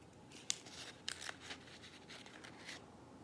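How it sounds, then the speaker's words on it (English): Scissors snip open the top of a small sealed wafer envelope for communion, a few close, crisp cuts with short rustles between, quiet and without talk. "You just clip off the top. You want to be careful and not cut the wafer"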